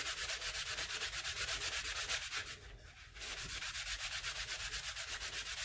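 Close, steady scratching and sanding on the lip of a tumbler, a fast rhythmic rubbing stroke that runs almost continuously, with a brief softer pause partway through.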